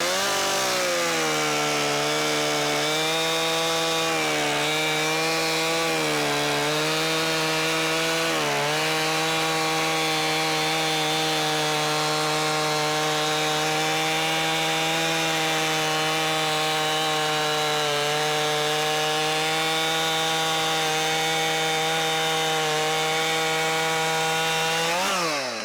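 A Stihl Farm Boss MS271 50cc gas chainsaw cuts through a log, running loud and steady at high revs for the whole stretch, with a few brief dips in pitch as the chain loads up in the wood.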